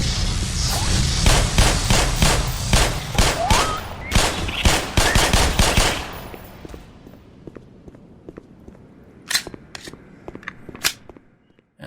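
Rapid pistol shots ring out in the Black Mesa video game, a dense string of sharp cracks for about six seconds, then sparser scattered shots and clatter trailing off.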